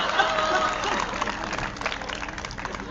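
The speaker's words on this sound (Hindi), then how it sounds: "इस बात पे तो नरेश यादव जी की पत्नी ने ताली बजाती भाई साहब।" Applause from the audience at a Hindi comedy poetry (hasya kavi) show for Holi, a dense, steady wash of clapping that stays loud and fills the full three seconds, with a few voices mixed in.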